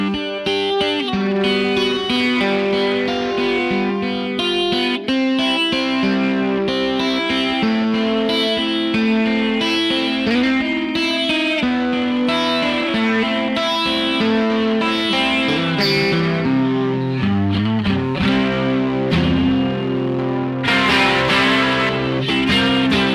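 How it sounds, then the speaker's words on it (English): An electric guitar through a basic analog chorus pedal plays chords and melodic lines with a shimmering, slightly wavering chorus effect, loud and continuous with no talking. "You're going to hear this chorus, but just a very basic analog chorus."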